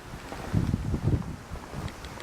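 A strong, freezing wind gusts through deep snow drifted against buildings, roaring in low buffeting surges across the microphone with no one speaking.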